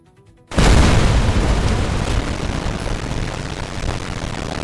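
A pile of plasma mines detonates in Fallout New Vegas, bursting from quiet into a huge, deep, roaring explosion that sustains and slowly rumbles down over several seconds.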